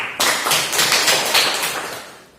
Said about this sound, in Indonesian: tepuk tangan untuk mereka punya kelompok dulu